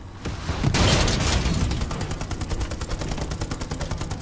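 A heavy anti-tank round strikes a tank in the WWII shooter Hell Let Loose, a loud booming impact followed by a dense, rumbling rattle of continuous battlefield gunfire, with no talk.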